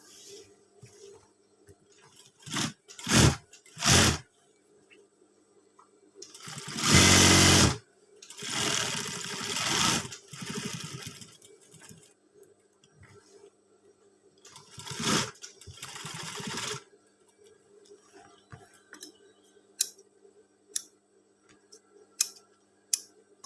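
Sewing machine stitching a scout uniform collar in short repeated bursts, a few brief runs then two longer stretches of steady whirring, with quiet ticking gaps between, close and moderately loud, no talking.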